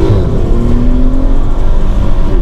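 A Volkswagen Passat CC fitted with a Magnaflow exhaust accelerates, giving a loud, steady engine drone with a rising tone, heard up close from inside the car with road rumble underneath.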